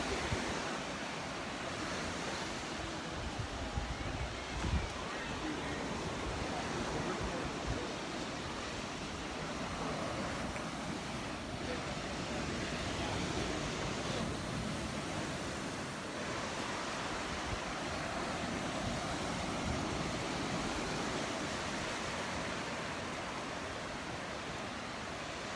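Waves wash onto the shore at Crystal Beach in Destin, Florida, as a continuous broad roar of surf mixed with wind, steady and moderately loud throughout with no talk.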